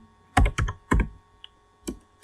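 Short burst of keystrokes on a computer keyboard, a few quick clustered taps then scattered single presses, close and fairly quiet with no talking.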